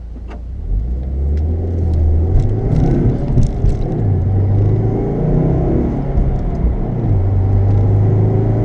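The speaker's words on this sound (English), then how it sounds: "I wish this GoPro had a better microphone that cut out some of this loud ass road noise" Inside a moving Subaru WRX, loud road noise rumbles steadily as tires drone on pavement, with the engine's low hum rising and falling as the car accelerates.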